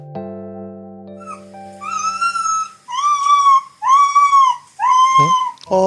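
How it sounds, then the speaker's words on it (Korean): A sick puppy gives weak, strange, whining barks, several drawn-out whimpering yelps in a row, close and fairly loud, after a short steady tone at the start. "근데 좀 짖는 소리가 이상하죠?"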